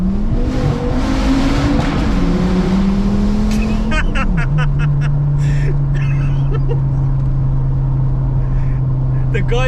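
An ex-police Volvo T5 pulling away in first gear, its engine a loud, close, continuous drone whose pitch climbs and then drops and holds steady, with road and wind noise throughout.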